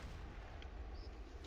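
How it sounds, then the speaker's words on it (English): Heavy cannon fire from the Lambda cannon in the mobile shooter Tacticool, a dense low rumbling boom sustained throughout with no clear separate shots. "Lambda cannon again."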